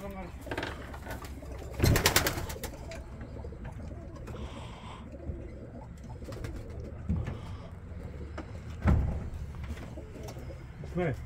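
Pigeons cooing in a mixed flock of birds, soft repeated coos close by with a few brief louder flutters and bursts, while people talk over them.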